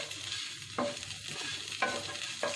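Onions and mint are sautéed in a pan, with a soft sizzle under sharp stirring scrapes that come roughly once a second, close and clear.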